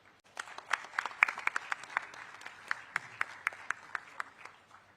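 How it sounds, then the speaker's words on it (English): An audience at an evening aviation launch event in Nagpur claps, sparse and fairly faint at first, with distinct individual claps standing out over a steady patter that continues for several seconds. "let's give a big round of applause"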